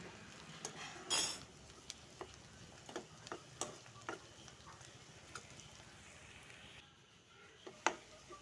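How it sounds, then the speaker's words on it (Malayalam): A spoon scrapes and clinks in a pan as egg ghee roast is stirred with salt, giving sparse, irregular metallic taps over a faint sizzle, quiet and close, with no voices. "പെട്ടെന്നൊന്ന് വരണ്ട് കിട്ടാൻ വേണ്ടിയിട്ട് ഉപ്പ് ചേർത്ത് ഇളക്കി കൊടുക്കാം"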